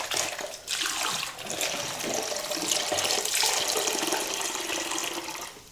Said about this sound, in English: we're going to very gradually add our water